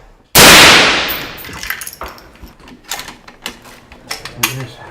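Special forces weapons open fire on command with one loud, sharp report, followed by a string of fainter shots and metallic clanks.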